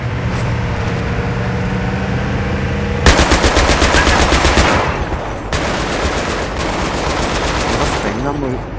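Battlefield 3 co-op mission gunfire: loud, sustained automatic bursts in rapid rhythm, with a rumbling engine-like bed between volleys.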